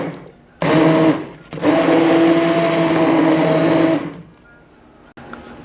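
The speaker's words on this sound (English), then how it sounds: "Now I'm just using my immersion blender to break down all the big pieces." An immersion blender whirs through vegetables and chicken broth in a stock pot, a loud motor drone in two bursts with a short pause between, then a quieter tail at the end.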